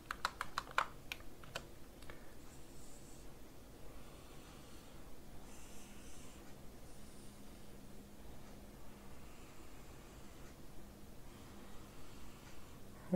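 Computer keys pressed on a keyboard while working in Photoshop, a few faint, sparse clicks near the start and then scattered soft taps over a low steady room hum, with no one speaking.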